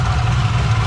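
A brief moment of a running supercharged 6.2-litre LSA V8 in a 2014 HSV VF GTS, with a low, rough rattling from its supercharger bearings and coupling, close and steady.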